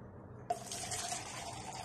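Water pours into a blender of smoothie ingredients, starting abruptly as a steady close splashing rush that continues evenly to the end, with no talking.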